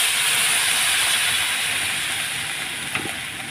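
Water poured into a hot pan produces a loud, broad steady hiss close by that slowly fades over a few seconds, with a small clink near the end.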